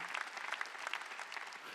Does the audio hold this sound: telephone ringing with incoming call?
no